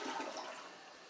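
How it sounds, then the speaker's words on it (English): Close rushing swirl of a toilet flushing after a new flapper was fitted, loud water surge easing slightly over about a second, with no voices. "Just simply give it a flush, make sure everything flushes normal."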